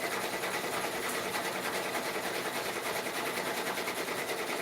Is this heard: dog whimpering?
no